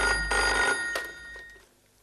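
A telephone bell rings loudly in a domestic sitcom scene, one sustained electronic trill burst and then a second, shorter ring that fades out.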